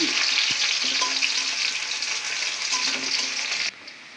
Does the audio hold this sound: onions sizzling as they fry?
yes